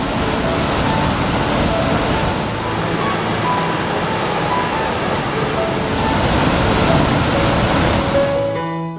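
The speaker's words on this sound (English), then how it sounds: "The High Falls are the highest waterfalls completely in Minnesota." A continuous, loud roar of rushing water from High Falls in Minnesota, broad and steady without pause, filling the whole scene.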